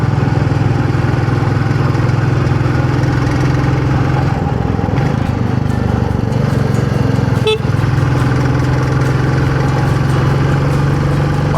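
A Royal Enfield Bullet motorcycle rumbles steadily while being ridden along a smooth road near Achara. The engine thump stays loud and close throughout, with wind noise and a brief bump partway through.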